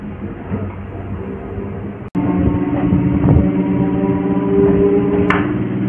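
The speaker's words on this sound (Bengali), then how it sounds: "ট্রেন এখন ঢুকে গেছে হচ্ছে বেলুর মঠ স্টেশন" A local train from Howrah rumbles into Belur Math station with a steady low hum and droning tones. A sharp break comes about two seconds in, then a louder, continuous rolling roar and a brief high squeal near the end.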